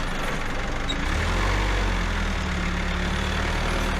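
A struggling forklift engine held at full throttle while losing fuel gives a steady, loud low rumble that drones on without letup and without any rising rev.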